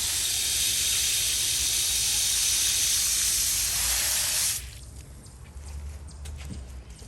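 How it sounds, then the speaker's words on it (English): Parsley transplants in a grow bag get watered with a loud, steady spraying hiss from a hose or can for about four seconds, then it stops, leaving quiet trickling and draining. "I want to give it one more watering to welcome it home"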